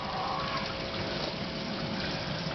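Water flowing through unglued aquaponics plumbing pipes, rising up a central pipe and diverted straight down, a steady close hiss and gurgle with no break across the short stretch.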